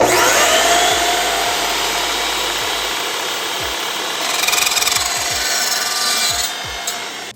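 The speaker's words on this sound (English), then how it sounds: "test number 1, Makita chop saw. We're just gonna cut this little piece of" A Makita 12-inch chop saw slices through a small piece of 16 gauge steel, giving a loud, continuous harsh grinding rasp that holds steady for several seconds before tapering off at the end.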